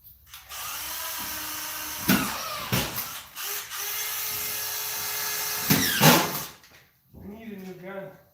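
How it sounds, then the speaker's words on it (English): A power drill whirs steadily into a drywall wall during a vent repair, running in a long sustained burst with short pauses and a second spin-up near the end, close and fairly loud, with a voice speaking briefly at the close. "drill for drilling"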